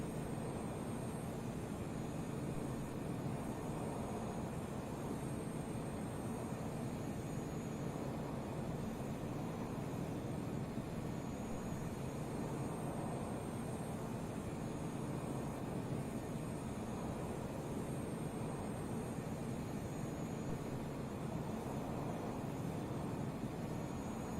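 A To-201 Shikra jet in the Arma 3 video game throttles up, its engine a steady, loud, continuous roar with a broad rumble that holds evenly throughout, with no talking.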